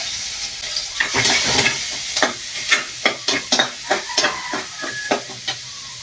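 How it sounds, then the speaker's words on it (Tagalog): Oil sizzles in a pan as garlic and onion are sautéed, with a spatula scraping and stirring in quick, repeated strokes up close. "Magigisa na po tayo guys, may matika na po ito"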